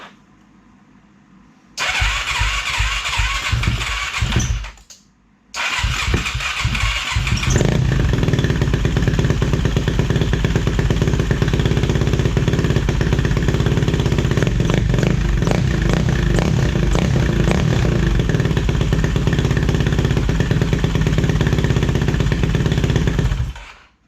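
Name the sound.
Yamaha YFZ450 ATV engine starting and running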